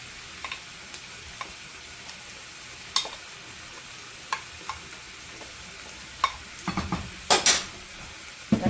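Rice being stirred in a pot of water at a full rolling boil on a home stove, a soft bubbling bed broken by occasional scrapes and clinks of the spoon against the pot, no talking.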